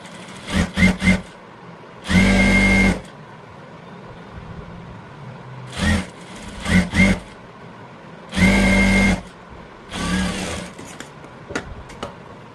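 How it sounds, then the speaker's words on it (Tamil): A sewing machine topstitches over the lining of a three-dot blouse in short bursts: quick clustered runs alternate with longer steady passes, separated by near-silent pauses, close and fairly loud with no talking. "நல்ல பக்கம் லைனிங் வச்சு அதுக்கு மேலே ஒரு தையல் போட்டுக்கலாம்."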